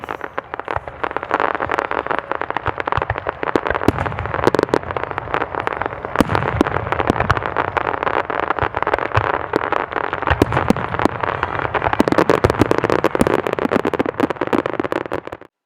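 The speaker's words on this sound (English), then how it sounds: "here's a little bit of fireworks that was captured at ISO 100 on a tripod" Dense, continuous fireworks bursting for the whole stretch, with sharp pops and crackles layered over a steady rumble, loud and relentless.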